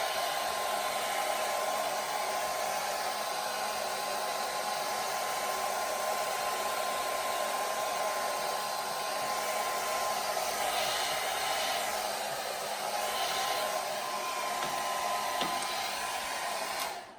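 A hair dryer blows hot air onto a long beard while it is brushed, a steady, loud whooshing roar with a constant motor hum that runs without a break and with no talking.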